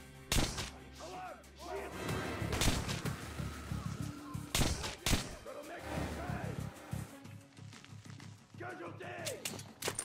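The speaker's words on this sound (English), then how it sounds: "Silenced pistol." Muffled suppressed pistol shots in Metro: Last Light, several sharp thuds spaced irregularly over a busy game soundscape, with voices talking at times between them.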